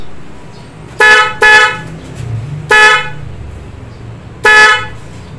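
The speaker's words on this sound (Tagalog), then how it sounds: "Bali ibubusina ko siya." A loud aftermarket dual car horn (racing papap style) blasts close by: two quick honks, a pause, then two more single honks, each sharp, brassy and clearly louder than the quiet idle between them.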